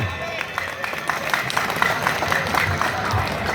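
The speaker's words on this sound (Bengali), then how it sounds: "সৌনকের জন্য কি হাততালি হবে একটু?" Audience applause for Sounak at a crowded public gathering, a brief burst of mixed clapping and crowd murmur, moderately loud and fairly close, with voices in the background.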